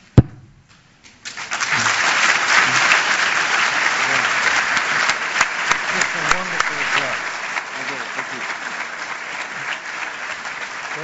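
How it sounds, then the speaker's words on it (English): Spontaneous applause from a large audience at a public lecture on government, a sharp opening sound and then a dense, loud, sustained ovation that gradually thins toward the end. "that was just a spontaneous applause"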